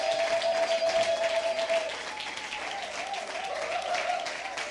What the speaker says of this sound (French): Ok, on peut les applaudir.